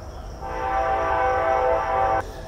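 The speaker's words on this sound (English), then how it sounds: "There's a train." A train in Montana rolls past with a loud, sustained horn blast that holds for over a second before cutting off, the rumble of the cars running underneath.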